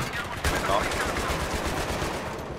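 Rapid automatic gunfire from Battlefield 3 during a co-op mission: dense, continuous bursts of shots crackling steadily throughout, close and loud.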